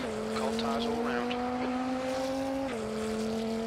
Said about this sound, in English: the car just sounds so good